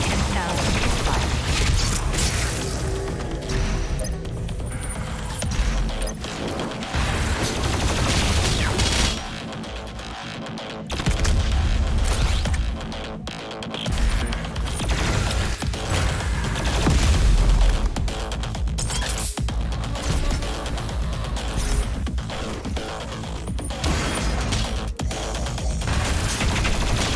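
The BFG 10,000 cannon in DOOM Eternal fires amid constant dense rumbling, explosions and mechanical clatter, loud and continuous for nearly half a minute with a few brief lulls.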